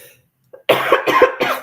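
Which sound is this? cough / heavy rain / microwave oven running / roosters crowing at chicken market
cough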